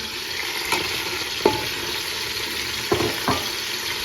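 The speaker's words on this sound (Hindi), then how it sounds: "अब मैं इन सबको हल्के हाथ से थोड़ा इसकी भुनाई करूँगी।" Tomatoes, garlic-ginger paste and spices frying and being stirred for chicken pulao, a steady low sizzle with a few soft spoon scrapes against the pot, close and moderately quiet, no talking.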